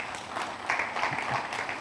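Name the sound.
audience applause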